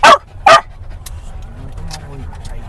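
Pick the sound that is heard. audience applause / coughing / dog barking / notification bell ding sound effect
dog barking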